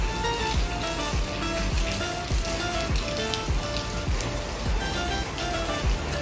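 Heavy rain beating on surfaces during a hailstorm in Tinsukia, Assam, a dense continuous patter with scattered sharper drop impacts, close and steady throughout, with no voices.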